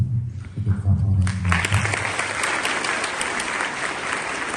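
An audience at a cultural palace in Stepanavan claps, with a brief stretch of talk at the start giving way to steady, full applause that carries on to the end.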